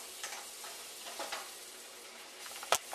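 Butter and brown sugar melt together in a hot pan with a steady, close sizzle, broken by light stirring scrapes and one sharp tap near the end; nobody speaks.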